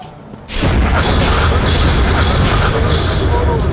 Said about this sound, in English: I called it the orbital drop cannon.